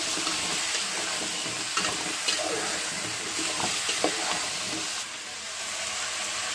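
Potatoes and taro stems frying in a pan with onion, garlic and ginger, a steady broad sizzle with occasional stirring clicks and small pops, close and continuous.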